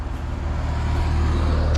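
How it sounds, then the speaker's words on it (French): The broom wagon car passes at a women's U19 cycling stage race, the Omloop van Borsele. Its close engine and road noise swell steadily over a short moment. "Voilà la voiture balai encore."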